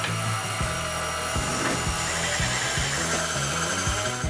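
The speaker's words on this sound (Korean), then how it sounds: "반죽기를 준비하고 강력분, 설탕, 소금, 드라이 이스트, 우유, 계란을 넣고 반죽을 시작합니다." A dough mixer kneading hamburger bun dough made from bread flour, sugar, salt, dry yeast, milk and eggs, with a steady motor hum and a rhythmic low thumping as the dough turns, close and alone.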